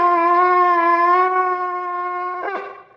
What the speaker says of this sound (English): the tekiah, which is a loud, vibrant, strong blast